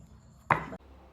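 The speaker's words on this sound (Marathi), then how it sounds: "आता आपण हे बारीक कापून घेऊ" A knife chops through jackfruit on a cutting board in one short, crisp thunk, alone in a quiet kitchen.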